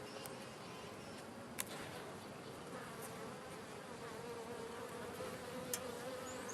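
Honey bees swarm and buzz around a new hive, a thick continuous drone heard up close, with a couple of sharp clicks from handling the hive and no voices.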